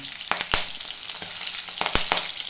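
Green chillies and garlic fry in hot oil for a bean-pod vegetable dish, a steady close sizzle broken by several sharp spatters and pops.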